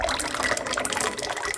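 Cold water pours into a bowl indoors, a steady close gushing and splashing from a tap running without pause.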